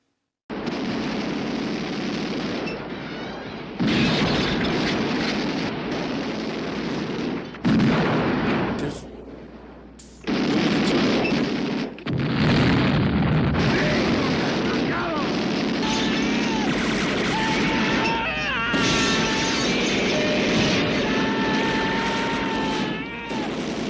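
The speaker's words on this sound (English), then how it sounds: "There was a lot of bullets being shot in that episode" Gunfire and explosions from a battle scene in the 1969 film The Wild Bunch, loud rapid bursts and booming blasts, with gaps and sections where dialogue or voices play over the chaos.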